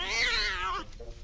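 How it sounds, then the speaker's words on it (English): A wild cat in the Scary Stranger 3D game lets out a single loud, drawn-out meow that slides downward, followed by a brief quieter tail. "sick the wild cat on them"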